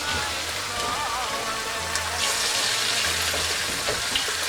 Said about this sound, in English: add your liver into the pan